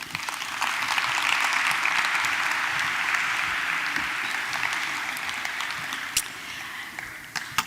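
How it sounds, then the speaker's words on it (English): An audience at a global conference applauds panel participants as they leave the stage. Sustained clapping fills the room, swelling early and slowly tapering, with a few sharper individual claps near the end. "give me a big round of applause to my participants as they descend off stage"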